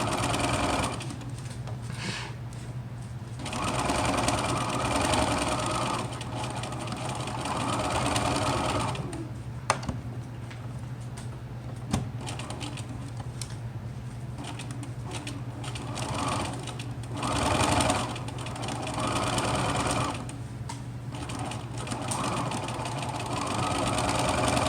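A sewing machine stitches a fabric face mask, running in long loud mechanical bursts with brief pauses between seams, heard up close with no talking.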